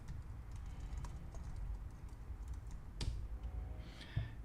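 Soft, steady tapping of computer keyboard keys as commands are typed, close and quiet over a low hum, with a few louder clicks near the end and no speech.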